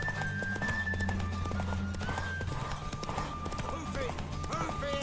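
Galloping horse in The Witcher 3 video game, rapid clip-clop hoofbeats running steadily under music and voices speaking, with a brief whinny.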